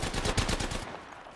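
Rapid automatic gunfire in Apex Legends, a fast close burst of evenly spaced shots lasting under a second before cutting off into a short fading tail.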